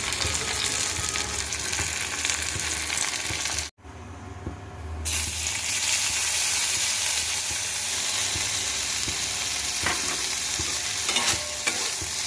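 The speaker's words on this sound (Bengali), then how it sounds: "ফ্রাইড রাইস রান্না করব, সেই জন্য সব সবজি টবজি যেগুলো লাগবে সব ভেজে নিচ্ছি এখন এখানে।" Vegetables for fried rice frying and being stirred in a pan, a steady loud sizzle that runs close throughout, with a brief drop near the start and scraping stirs layered on top.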